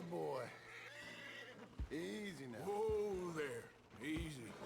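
A horse in a video game neighs and whinnies in long, wavering calls that repeat several times, mixed with speech, some of which sounds like voice acting.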